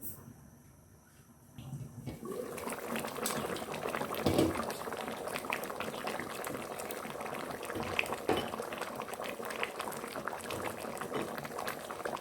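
A pot of goat light soup bubbles steadily on the stove, a continuous close boiling and simmering wash with occasional louder bursts, quiet at first and then settling into a constant bubbling.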